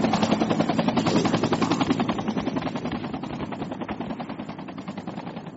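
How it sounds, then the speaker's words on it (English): Sustained rapid automatic fire from an MG4 machine gun in a military video game, a dense, steady burst lasting several seconds, loud and continuous with a slight fade toward the end, no voices over it. "Sound like an MG4."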